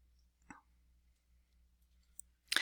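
Two short, sharp computer mouse clicks in a quiet room while installing WordPress, one soft near the start and a louder, brighter one near the end, with a low background hum and no talking.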